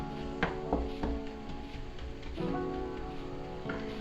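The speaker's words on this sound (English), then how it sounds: "Now it's really sizzling good." Sausage sizzles quietly in a frying pan while cream gravy is being made, giving a steady, rain-like crackle with a few sharper pops and no talking over it.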